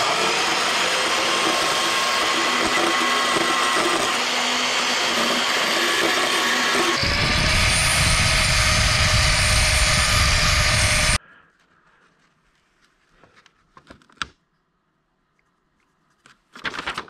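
A power tool roars loudly up close as it cuts off a welded gas pedal part, the pitch shifting partway through before stopping abruptly, followed by faint clatter and a final burst.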